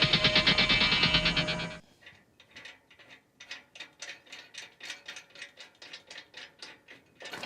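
A loud steady mechanical whir cuts off, then a wrench ratchets in a quick rhythmic series of metallic clicks while loosening the single cover bolt on a Woodland Mills WC68 wood chipper, close and without talk.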